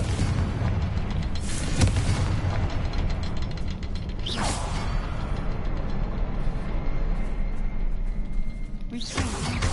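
A Confringo spell in the video game Hogwarts Legacy bursts into a deep booming explosion with mechanical rumble and debris, followed by a dense continuous roar and a few sharp swooshing surges, loud throughout.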